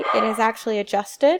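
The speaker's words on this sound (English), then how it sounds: "I do apologize for my dog." A pet dog barks and yips in several short, sharp bursts close to the microphone, interrupting a spoken introduction to a college digital photography class.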